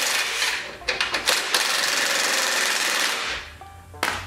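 A battery-powered impact tool hammers at a rusty bolt holding the handle on a homemade snow dog, loud rapid rattling bursts and a sustained buzzing run that cuts out, then a short final burst.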